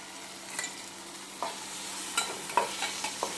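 Fenugreek greens (methi bhaji) fry in a pan with a quiet, steady sizzle, broken by several sharp scrapes and clinks as a spoon stirs them.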